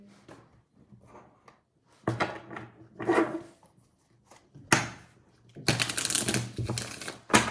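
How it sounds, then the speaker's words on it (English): A deck of tarot cards is shuffled up close in irregular bursts of riffling and sliding, with short quiet gaps between them and a longer, louder run of shuffling near the end; no one speaks. "Shuffling for Cancer."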